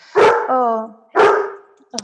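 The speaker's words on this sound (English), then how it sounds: "Sorry, it's my dog." A dog barks in two loud, close bursts with a short yelp at the end, cutting across an online training session.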